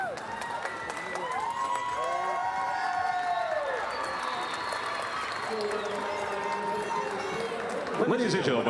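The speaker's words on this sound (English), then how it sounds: "how about one more large round of applause for all of our medal-winning teams" A crowd applauds medal-winning girls' 13 Open volleyball teams at a national championship, sustained clapping and cheering under a loud announcer voice and background music.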